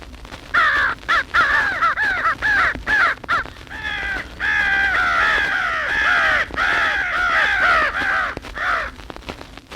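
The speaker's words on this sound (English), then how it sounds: "Now listen to 3 crows harassing an owl." Three crows harass an owl with loud, overlapping caws, dense rapid bursts that merge into near-continuous clamor through the middle, heard close and without talk.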